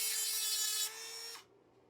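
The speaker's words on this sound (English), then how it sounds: "you first cut a piece of strip and scuff away the surface, exposing the base material if it's nickel plated" Nickel strip being cut and its surface scuffed by a small power tool, a loud high buzzing grind lasting about a second that drops in level and then cuts off abruptly.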